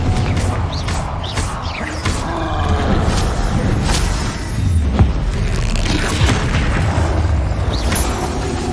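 Fire-blast Confringo spell explosions in the Hogwarts Legacy video game, dense rumbling booms and crackles layered with roaring game effects, loud and continuous throughout with no clear gaps.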